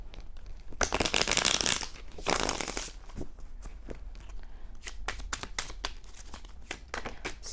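Tarot cards being shuffled by hand in several bursts: a long dense riffle near the start, then a second pass, followed by lighter scattered card flicks and taps, fairly close and moderately loud.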